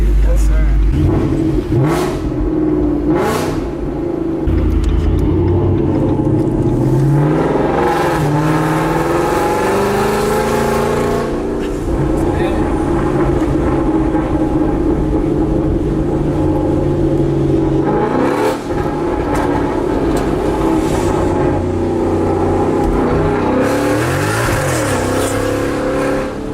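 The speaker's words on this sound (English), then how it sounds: "now we're driving the boosted V8" A Procharged, supercharged V8 Ford Mustang S550 accelerates, its loud engine droning and surging as the revs climb and fall, heard from inside the car while people talk over it.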